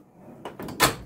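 A drawer sliding open on a new mini tool cabinet (servante) stocked with sockets and bits, heard up close as a few scraping, rattling pushes ending in a louder clunk.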